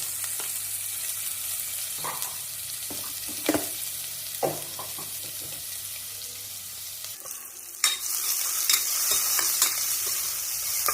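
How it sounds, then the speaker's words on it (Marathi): Onion fries with turmeric, curry leaves and oil in a pan for a brown rice bisibele bath, a constant close sizzle broken by stirring scrapes and spoon taps, growing louder and hissier near the end. "आता कांदा भाजा लागला."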